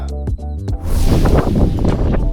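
Strong, cold wind gusting at Viripara near Munnar, a loud continuous broadband rush that surges in after a brief lull and buffets the microphone, with no speech.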